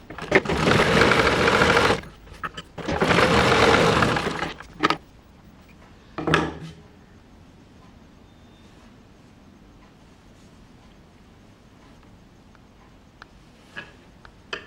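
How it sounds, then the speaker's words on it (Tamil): Sewing machine running while stitching a blouse, two loud sustained bursts of about two seconds each, followed by short clicks and handling sounds in a quiet room. "இப்போ ஒரு ப்ரெஸ் தையல் போட்டுக்குவோம்"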